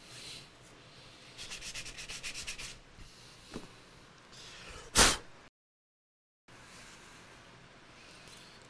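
A laser-engraved piece is sanded by hand in short, scratchy back-and-forth rubbing strokes. A sharp knock follows, then a brief silence before faint rubbing resumes.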